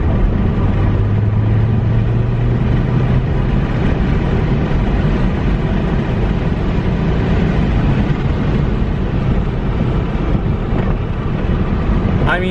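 Saab 9-5 Aero with a Maptun Stage 1 tune pulling hard in third gear in manual mode on an open stretch, a loud, steady engine and road drone with wind rush filling the cabin throughout.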